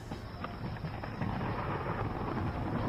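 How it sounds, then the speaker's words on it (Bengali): Thunder rumbling with heavy rain, a dense, steady wash of low rumble and hiss that continues without a break for about three seconds. "বিশাল কর্কর শব্দে বাজ পড়ায় রাজিয়ার ঘুমটা ভেঙে যায়।"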